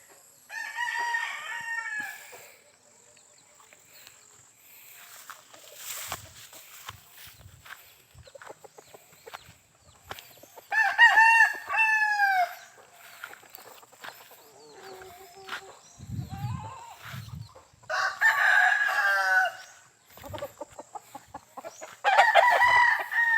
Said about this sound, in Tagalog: ito yung mga sunoy, mga bayong